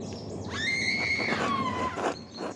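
A shrill, wavering human scream from the chapter house in the Pentiment video game, rising sharply, holding, then dropping and breaking into shorter cries, heard alone without talk.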